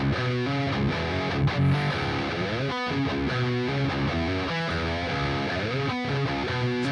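Heavy distorted electric guitar through the Neural DSP Nolly amp plugin on its Juicy Chug preset, playing tight palm-muted chugs and chords at steady loud level, alone without talk.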